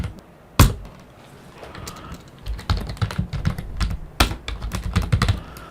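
Someone types on a computer keyboard: close, quick key clicks in irregular bursts, with a couple of sharper, louder strikes standing out, and no talk.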